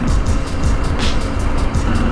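A truck passes on a backcountry road in Idaho, giving a loud, close rush of engine and tire noise that swells and fades over a couple of seconds.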